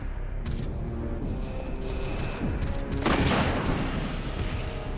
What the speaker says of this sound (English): Let me shoot this rocket in your face.